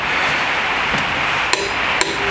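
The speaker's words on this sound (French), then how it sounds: "je vais les serrer à 120 avec la Elite" An Elite torque wrench tightening car wheel nuts to 120 gives a few sharp metallic clicks, spaced apart, over a steady background hiss.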